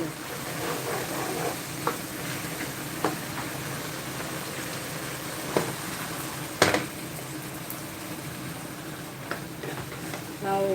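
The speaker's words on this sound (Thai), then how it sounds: "ก็เอาหมูที่เราผัดนี่แหละเข้าไป นี่แบบนี้เลย ตักเทลงไป" Soft scraping and sizzling as stir-fried minced pork is scooped into a pot of rice porridge and stirred, with scattered clicks of a utensil against metal.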